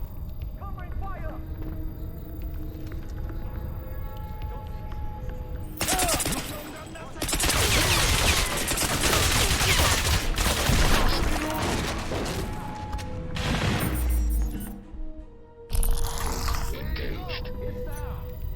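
Bursts of automatic gunfire and fusillades in the Crysis Remastered shooter, loud and sustained with sharp bangs and mechanical clatter, with shouted voices in the mix.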